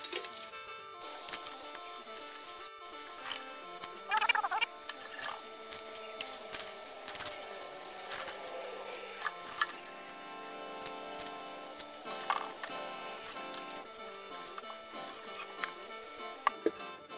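Eucalyptus leaves drop into a pot for a homemade herbal insecticide, scattered light ticks, taps and rustles with occasional sharper clicks, close and fairly quiet.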